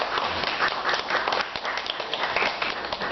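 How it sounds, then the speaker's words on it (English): A live audience at a NaNoWriMo 2016 kick-off panel claps in a steady, dense round of applause, many hands close and fairly loud, lasting throughout without talk over it. "I think she deserves a round of applause"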